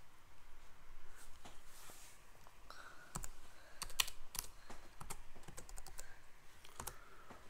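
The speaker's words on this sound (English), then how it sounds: "I typed it wrong." Rapid clicking keystrokes on a computer keyboard while setting up Ubuntu GNOME 16.04 in VirtualBox, in irregular bursts and pauses, close and fairly quiet with no talking.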